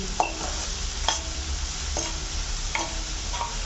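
A spoon scrapes and stirs banana flower cutlet mixture sautéing in a pan, with soft steady sizzling under a few sharp utensil clinks spaced about a second apart.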